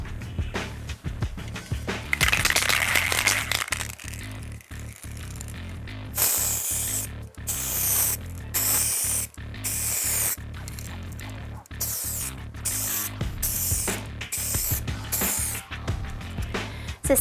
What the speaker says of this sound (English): So simply by spraying one cross coat, the first thing you will have noticed is the quality of the fan spray.